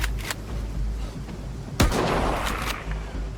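Video game gunfire: a few scattered shots early, then one sharp loud blast with a rumbling tail, over a low background hum.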